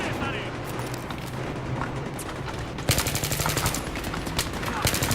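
Battlefield 3 multiplayer combat with rapid bursts of gunfire and booming explosions, loud and dense, the shooting growing sharper and more intense in the second half.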